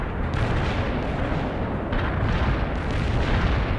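Artillery strike explosions from the World in Conflict battle for Berlin, a dense, continuous rumble of booming blasts and crackling detonations that stays loud and steady throughout, with no talk over it.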